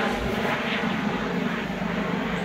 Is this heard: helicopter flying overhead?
yes